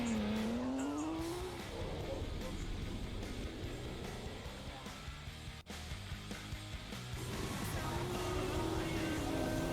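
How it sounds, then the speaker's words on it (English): Several cars race together in the Roblox game Midnight Racing Tokyo, including a Mercedes-Benz SL600 R129 grand tourer, with engines revving and shifting pitch and tires squealing, a continuous busy mix of engine drone over about ten seconds. "all the cars are coming up onto the finish line"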